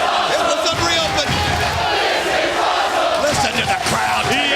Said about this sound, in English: They're chanting, this is awesome, because this Monsters Ball has been off the charts.